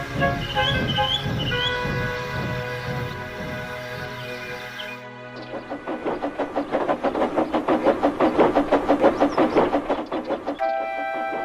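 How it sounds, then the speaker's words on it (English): Steam engine Gordon hisses and whistles with long tonal blasts, then chuffs in a steady rapid rhythm as he moves with his train, close and fairly loud, ending on a sustained tone. "Gordon backed down on his train, hissing mournfully."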